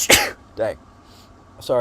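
A single sharp sneeze bursts out near the start of a casual live stream, followed by brief apologetic talk from the same person and another short voice.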